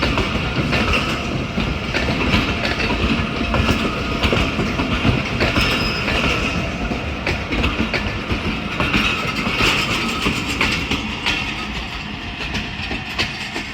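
A passenger train departs from a station in Pakistan, wheels rumbling and clattering steadily along the rails with a constant loud roll, no talk.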